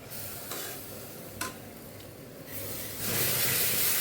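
A jackfruit and jaggery mixture is poured into a hot pan and stirred, a quiet hiss and sizzle with a few scraping strokes, then a louder rush of sizzling as more liquid goes in.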